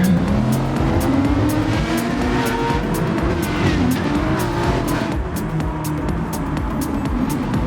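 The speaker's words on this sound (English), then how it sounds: "And once again, bouncing off the rev limiter, they get away." Race cars in an esports racing event bounce off the rev limiter and pull away from a standing start, engines roaring loud and continuous with rapid stuttering pulses throughout.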